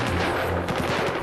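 A loud, close gunshot from a handgun rings out in a brief burst, followed by a short echoing tail.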